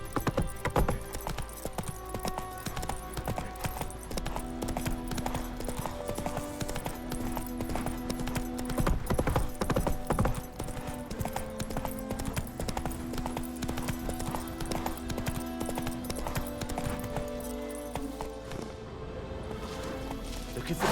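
Roach the horse's hooves clip-clop in a steady, continuous gait in the video game The Witcher 3: Wild Hunt, close and clear over quiet game ambience.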